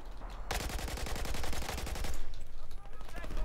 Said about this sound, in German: Ja, da wird geschossen.